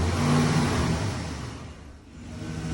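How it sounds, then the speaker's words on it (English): A 2011 GMC Sierra truck engine, due for spark plug replacement, starts and runs rough, churning and laboring unevenly, with low uneven rumbling that dips in strength before picking back up. "right now when we started, it's really struggling"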